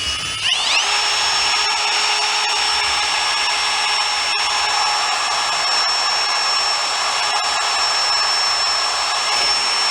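A power hone spins inside a golf cart engine's cylinder bore, lubricated with 2-stroke oil, producing a steady high-pitched whirring drone that starts abruptly and runs continuously, close and loud with no talk.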